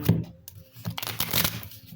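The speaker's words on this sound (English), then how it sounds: "So let me shuffle these up." Tarot cards being shuffled up close, a dense papery riffling and flapping that continues steadily for a couple of seconds with no talking.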